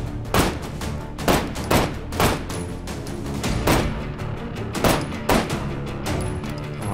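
Repeated gunfire from shooting the encryption nodes in Hot Dogs, Horseshoes & Hand Grenades, loud sharp shots coming in an uneven rapid series with brief gaps and some echo.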